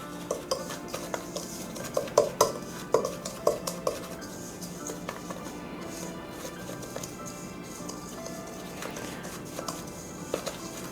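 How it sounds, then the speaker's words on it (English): A spoon stirs and scrapes a powdery cinnamon filling mixture in a bowl for homemade toaster tarts, with a run of clinking strokes at first, then quieter intermittent scrapes. "I'm just going to use a spoon to kind of blend it"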